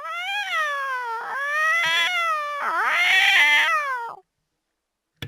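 A human voice imitates a cat's meow, repeating drawn-out, wavering meows several times in a row, loud and close, then stops abruptly.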